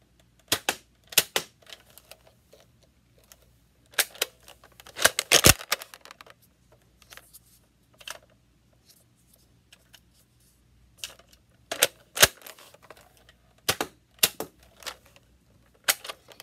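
Nerf N-Strike IX-2 blaster firing foam darts on single fire, a string of sharp separate snaps coming irregularly about a second or two apart, with no talk.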